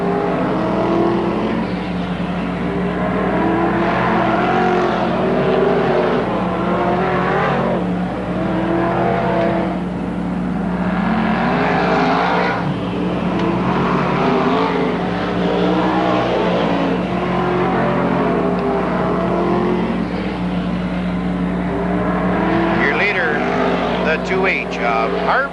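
Modified race cars roar around an oval dirt track at Merrittville in 1988, their engines droning and rising and falling continuously as they pass, under a race announcer's commentary.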